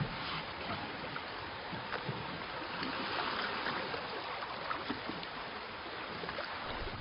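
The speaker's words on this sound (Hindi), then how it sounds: "चप्पू पानी के अंदर।" Oars paddle through water in a steady, continuous wash of splashing and gurgling, with small sloshing strokes scattered through it and no voices.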